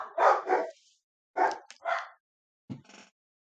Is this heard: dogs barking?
yes